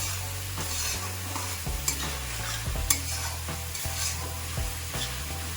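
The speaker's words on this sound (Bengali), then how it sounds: "মশলাটা ভালো করে কষিয়ে নিতে হবে" Spices for a pumpkin curry sizzle and fry in a pan while a utensil stirs and scrapes at irregular intervals, close and alone.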